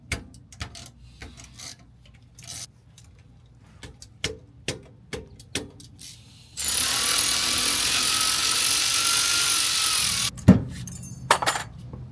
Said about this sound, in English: We got our sockets with our ratchet that we need. We're going to drain the oil